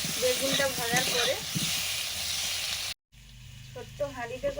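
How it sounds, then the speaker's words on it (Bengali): Potato pieces frying in hot oil for khichuri in a home kitchen after aubergine slices have been fried. A bright sizzle with stirring runs under a voice, breaks off briefly, then resumes more quietly. "খিচুড়ির আলুগুলো একটু ভেজে নিচ্ছি বেগুনটা ভাজার পরে"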